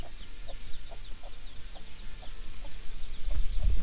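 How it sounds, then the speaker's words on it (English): Baby Muscovy ducklings and a newly hatched chick peep in quick, high, scattered chirps, repeating every fraction of a second over a soft background hiss. "Got the Muscovy duck and a regular little hen."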